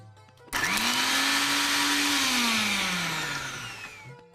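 A kitchen blender crushes tangy, spicy chutney ingredients with oil, its motor starting abruptly, holding a loud steady whine for about three seconds, then slowing and winding down.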